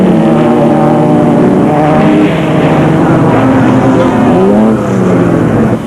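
Race cars in a motor race, the Carnival City 400 in 2001, scream past in a loud continuous engine drone, with pitch sweeping and shifting as machines rev and pass near the microphone.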